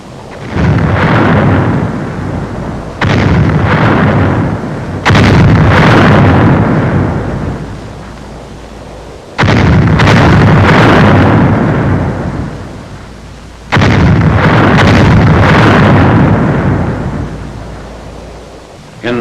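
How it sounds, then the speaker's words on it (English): Artillery shelling of Metz in 1944 during WWII, heavy blasts and rolling booms in long rumbling waves, loud and close, with a few separate hits spaced several seconds apart. "Final shelling of the town is directed by the 7th Field Artillery Observation Battalion."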